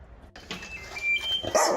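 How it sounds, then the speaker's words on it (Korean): A dog barks indoors at a community welfare center where older residents keep their dogs, giving a few sharp, fairly close barks and yips after a brief quiet start, with no talk. "집에 누가 오면 이렇게 짖나요?"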